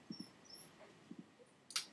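An overtired puppy gives several faint, short whines and whimpers in a quiet room, spaced irregularly, with one brief sharper yelp near the end.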